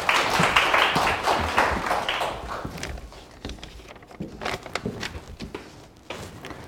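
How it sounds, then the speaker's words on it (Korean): Audience applause at an information session for a law bar exam prep class, a burst of clapping that is loud at first, then thins into scattered, uneven claps that fade toward the end. "박수 한번 쳐주십시오."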